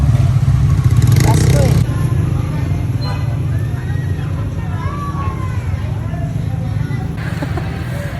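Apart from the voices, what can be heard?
road traffic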